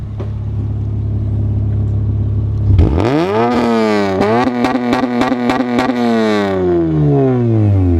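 A Honda car with an aftermarket exhaust sits at a quiet idle, then is revved hard several times, the engine note climbing sharply, dipping and rising again with a loud, raspy drone before easing off.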